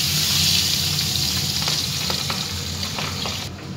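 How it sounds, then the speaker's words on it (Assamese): Fish pieces rubbed with salt and turmeric frying in hot oil in a pan, giving a loud, steady sizzle with sharp crackles and faint stirring clicks throughout, no voices. "এতিয়া মই মাছখিনি এনেকৈ ভাজি লৈছোঁ"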